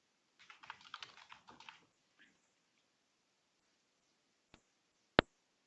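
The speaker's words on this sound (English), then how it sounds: "type stock quote to this search plugins field" Quick typing on a computer keyboard into a search field: a short burst of soft clicking keystrokes, followed by silence, a lone tap and a sharper click near the end.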